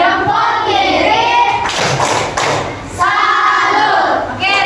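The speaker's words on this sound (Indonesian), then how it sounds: "Oke, kasih dulu tepuk salut." A classroom group performs the tepuk salut clapping chant, loud voices chanting in rhythm with bursts of hand claps and thuds close by, the chant sung in unison throughout.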